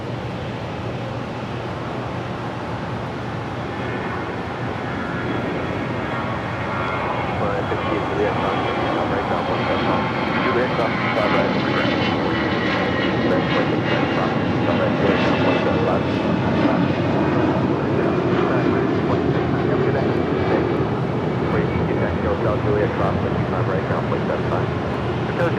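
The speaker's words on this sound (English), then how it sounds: "Taking off, that was American Airlines Flight 2546 heading to Mexico City in an A319" An American Airlines Airbus A319 jet roars down the runway on takeoff at Los Angeles International Airport, a loud sustained engine rumble building and swelling over the whole stretch.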